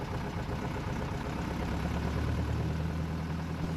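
A Piper Cub airplane engine drones steadily during its run-up, a continuous low hum that grows slightly louder and higher in pitch toward the end, heard from inside the cockpit.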